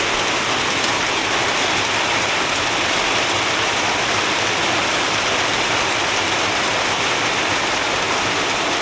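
A loud, unbroken wash of heavy rain hitting surfaces nearby, dense and steady from start to finish with no voices.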